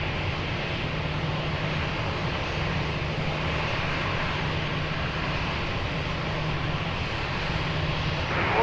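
A TAP Portugal airliner lands on runway 20 at Lisbon Airport, its engines giving a steady, broad roar that holds evenly throughout with no pauses, fairly loud and uninterrupted by talk.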